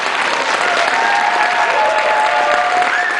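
Dense, steady applause from a concert audience at a spring concert of the Leominster High School and Monty Tech High School bands, with a few whoops over the clapping.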